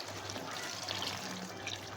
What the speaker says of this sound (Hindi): अभी हम इन पे 1 गिलास पानी और शामिल करेंगे।